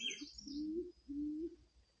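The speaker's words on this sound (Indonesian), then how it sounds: "Itu monyet." Monkey calling in a Javanese mountain forest on Mount Raung: two drawn-out, rising hooting calls, faint and distant, with thin high bird chirps at the start and no talk.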